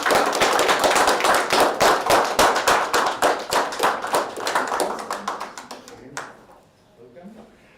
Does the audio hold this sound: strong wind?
no